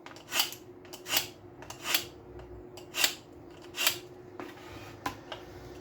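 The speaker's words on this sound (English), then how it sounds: "Get my knife, give it a bit of a sharpen." A fishing knife is sharpened before it cuts thawed bluey bait, giving six or seven quiet, rhythmic scraping strokes, each a short rasp, close by and alone.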